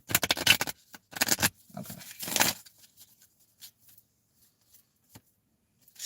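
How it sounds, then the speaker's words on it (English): A tarot card deck is shuffled in a few quick papery riffles and rustles up close, followed by quieter handling taps, with one brief spoken word. "One more shuffle. One more shuffle."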